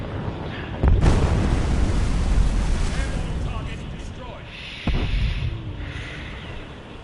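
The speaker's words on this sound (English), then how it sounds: "Oh, that's why I heard a bomb." A bomb blast in War Thunder rumbles as a loud, deep boom on a warship, followed by a second heavy impact partway through, with wind-like roar and voices talking over the din.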